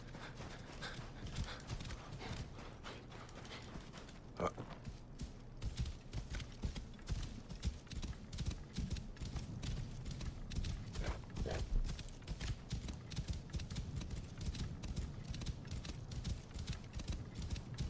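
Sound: horse hooves in Assassin's Creed Origins video game

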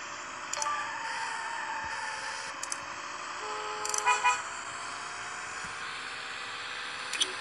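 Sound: car horn honking in driving video game

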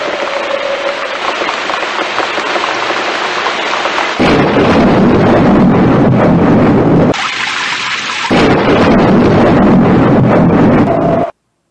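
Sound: hailstorm and thunder sound effect in story narration

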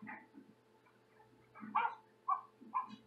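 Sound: talking car interface imitating a dog barking

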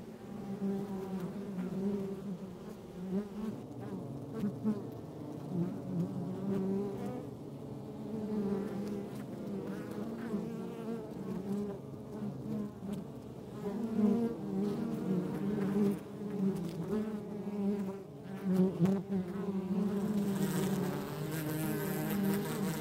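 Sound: wild honey bees buzzing, wings flapping fast

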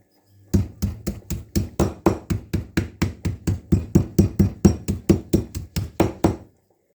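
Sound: pounding meat with a meat mallet

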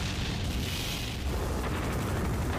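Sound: Dwarven tanks firing, from video game Final Fantasy IV

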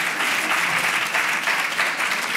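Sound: audience applause at a conference

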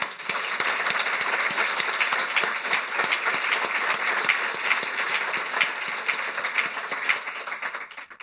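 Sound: applause

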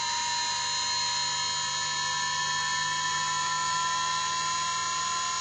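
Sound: Muller motor driven by outrunner motor spinning up

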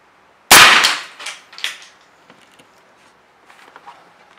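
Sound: AirForce Texan air rifle firing 554 grain bullet

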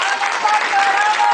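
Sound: audience applause welcoming singer

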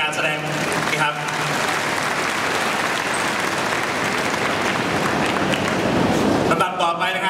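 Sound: audience applause at Muay Thai event

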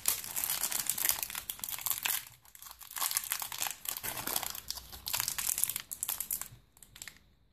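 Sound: Pokémon booster pack wrapper being torn open

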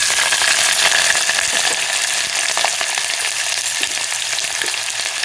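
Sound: mustard seeds and garlic frying in oil in a pressure cooker

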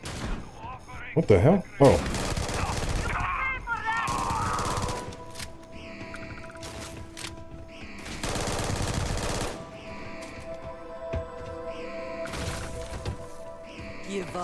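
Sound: gunfire in the video game Starfield

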